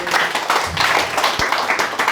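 A church congregation claps and cheers for the preacher during a sermon, a brief steady burst of many hands applauding close by.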